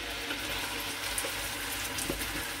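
Curry paste for a Malaysian chicken curry sizzles in a hot pot, a steady, dense frying hiss that runs unbroken and close throughout, with no talking.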